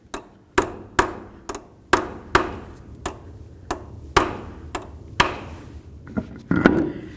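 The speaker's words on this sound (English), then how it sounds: "We want to just go ahead and peen the nut right into that." Hammer peening a CV axle nut on a Honda Accord, about a dozen sharp metallic strikes at an uneven, steady pace, close and ringing briefly after each blow.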